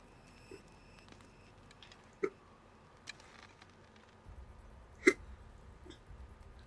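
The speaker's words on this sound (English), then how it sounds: "Sorry, hiccups." A few isolated hiccups spaced several seconds apart, quiet and close, over faint background sound during an Assassin's Creed Odyssey gaming session.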